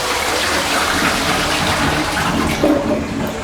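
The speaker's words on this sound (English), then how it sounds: "I just need to wash my hands" Water runs from a tap over hands at a sink, a steady close gushing stream that holds evenly throughout with no voices.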